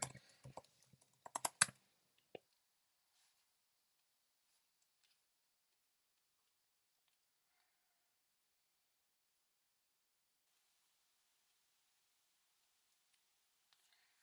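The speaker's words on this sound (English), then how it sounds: "Let me type in my password and details before pushing it out." Quick bursts of typing on a computer keyboard, a flurry of light clicking keystrokes for about two seconds, then near silence with a couple of faint isolated taps.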